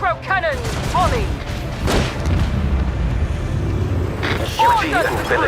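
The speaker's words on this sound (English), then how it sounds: "Macro cannon, volley!" A macro cannon volley in a space battle video game: a burst of heavy booming shots and rumbling blasts over a dense din of battle, with whooshing effects near the start and again near the end.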